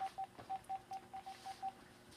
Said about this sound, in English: I'm going to go ahead and give him a call here.